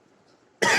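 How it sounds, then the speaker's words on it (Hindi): A single sharp, close cough bursts out abruptly from a man giving an astrology talk in Hindi, breaking a near-silent pause and cutting off just after it starts. "मौसम कुछ गड़बड़ तो खांसी आ रही"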